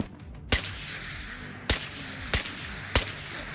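Four suppressed pistol shots from the VR shooter Ghosts of Tabor, sharp muffled cracks spaced unevenly over a few seconds, each standing alone against a quiet low background.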